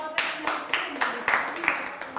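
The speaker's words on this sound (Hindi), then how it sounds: "ग्रुप नंबर 2 के लिए भी जोरदार तालियां" Clapping for the second group at a quiz game in a sex-education session, a steady round of handclaps from a small audience, fairly close and evenly paced.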